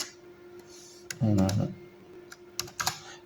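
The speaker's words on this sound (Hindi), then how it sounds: "यहाँ पर अगर एंटर का बटन प्रेस करूँ" A computer keyboard's Enter key is pressed, giving a few sharp, close clicks around a brief burst of voice in a quiet room.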